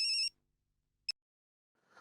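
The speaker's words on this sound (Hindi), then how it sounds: "जेठा भाई का फोन इतनी रात को, कोई इमरजेंसी तो नहीं?" A telephone ringing late at night: a sharp electronic ring burst, then a second brief chirp after a pause, heard alone in a quiet room.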